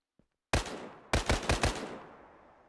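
A SCAR-H rifle chambered in .308 Winchester in a Minecraft gun mod, heard firing one sharp shot and then a quick burst of four or five loud cracks, each with a short ringing tail, with no talking.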